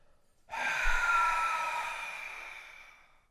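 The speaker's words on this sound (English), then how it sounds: "So breathing out the mouth all the way." One long, deep exhale pushed out through the mouth during a breathing exercise: a sudden breathy rush that slowly fades away, heard close and alone.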